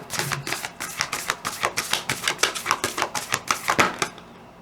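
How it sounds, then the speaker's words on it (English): A rapid run of crisp, papery slaps and riffles as stiff tarot cards are cut and shuffled, in quick uneven bursts that stop abruptly. "I've already pre-shuffled these a few times, so we'll just cut"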